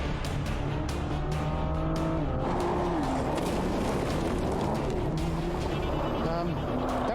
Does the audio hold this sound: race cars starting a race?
yes